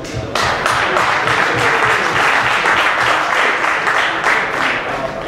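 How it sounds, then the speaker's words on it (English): A live-event audience at the Grand BAF Live evening breaks into big applause, a thick, continuous wash of many hands clapping that starts abruptly and holds steady and loud. "big applause"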